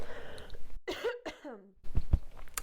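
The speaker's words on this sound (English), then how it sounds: "I feel like I should have waited till this cough was over." A voice speaks briefly, then a couple of harsh, close coughs break in with throat-clearing rasps, before she continues talking.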